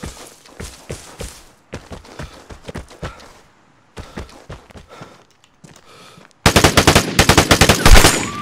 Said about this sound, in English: That's why you use the M16.